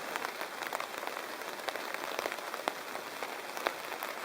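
Steady rain drums on a tent and tarp in the wild during spring, a dense even patter with occasional sharper drops standing out close by.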